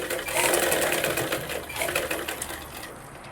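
Close sewing machine stitching blouse lining in a continuous whirring burst that slows and softens toward the end.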